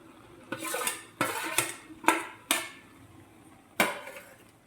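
A spoon stirs fried green turmeric into a curry in a metal pan, giving six sharp clanks against the pan at uneven intervals, each trailing off into a soft scrape.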